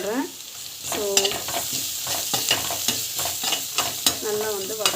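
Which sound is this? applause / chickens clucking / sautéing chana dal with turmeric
sautéing chana dal with turmeric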